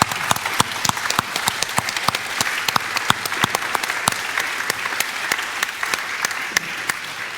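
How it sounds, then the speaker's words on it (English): A conference audience at a chamber of commerce business event gives a round of applause: dense, lively clapping with distinct individual claps that stays loud and even the whole time. "we're firstly going to have a big round of applause"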